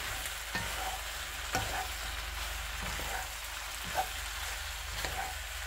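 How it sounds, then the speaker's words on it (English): Tomato and basil pasta sizzles in a pan while being stirred, a steady frying hiss broken by soft periodic scrapes and clicks of the spoon about every second and a half. "Give it another stir"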